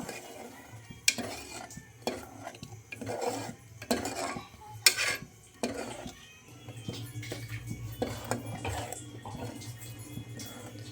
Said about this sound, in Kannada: ಇದು ಹಸಿ ಸ್ಮೆಲ್ ಹೋಗೋ ತನಕ ಇದನ್ನು ಒಂದು ಎರಡರಿಂದ ಮೂರು ನಿಮಿಷ ಈ ಥರ ಫ್ರೈ ಮಾಡ್ಕೋಬೇಕು